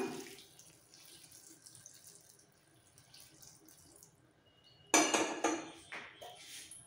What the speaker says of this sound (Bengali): এর মধ্যে উষ্ণ গরম জল একটু বেশি করে দিয়ে দিলাম।